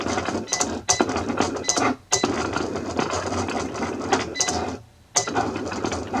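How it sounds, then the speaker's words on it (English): A Cricut cutting machine starts cutting a layered design, giving off busy whirring carriage movement and rapid clicking bursts with brief pauses, close and fairly quiet. "Now the Cricut button is flashing, so we want to hit that so it'll start. And it should start cutting."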